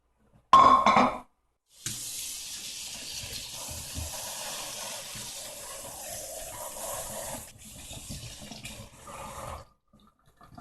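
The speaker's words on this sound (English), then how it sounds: "Now we just put our noodles in a colander and rinse well and drain." Cooked noodles are rinsed in a colander under running tap water, a steady close gush of water that starts abruptly, breaks briefly and then flows for several seconds before stopping.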